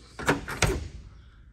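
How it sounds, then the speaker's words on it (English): Door of a 1970 model truck being handled, two quick close metallic clunks of the latch and door about a third of a second apart, fairly loud, then quiet. "We can open the door on it."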